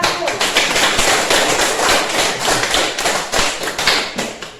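A classroom of pupils applauding a student group after its presentation, a dense, loud burst of many hands clapping that swells and rolls unevenly.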